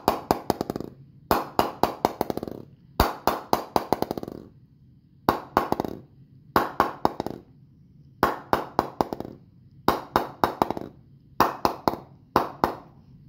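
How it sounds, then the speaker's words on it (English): A ball is tapped repeatedly against a Gray Nicolls Prestige willow cricket bat, giving sharp, crisp knocks in quick bursts of four to six, separated by short pauses, close and clear. "Let's check the ping of this bat."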